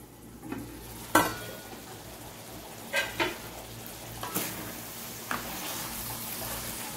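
Minced meat and bell peppers cooking on a low flame: a faint, steady background sizzle with a few scattered stirring scrapes and clinks of a utensil against the pot.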